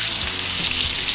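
Steaks sear in a hot pan with a loud, dense, continuous sizzle and crackle that stays even and close throughout, with no voices over it.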